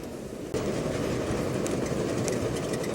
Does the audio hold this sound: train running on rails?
yes